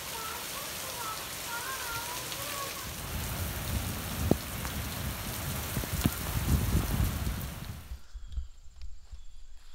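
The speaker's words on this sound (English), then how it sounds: "It's actually starting to rain, so now all this thatch is gonna be wet." Rain patters steadily onto a lawn covered in raked-up thatch, a dense hiss of drops with some thumps and movement nearby, then cuts off abruptly near the end.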